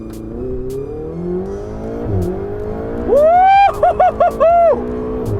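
A Ferrari 488 GTB with a 660-horsepower engine rises loudly in pitch as it accelerates hard, then snaps through several quick rev bursts, heard close from inside the car.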